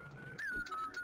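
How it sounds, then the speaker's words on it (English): A person whistles over voice chat in a Garry's Mod roleplay session, a short, thin wavering tone that rises briefly then holds, faint and heard through a compressed connection. "Stop whistling!"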